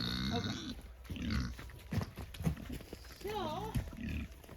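A pig grunts repeatedly on a snowy farm on a cold day, loud and close, with a person talking over and between the grunts.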